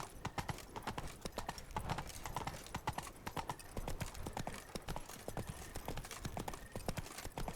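Hooves of Roach the horse galloping in The Witcher 3, a fast continuous clip-clop rhythm on firm ground, close and steady throughout.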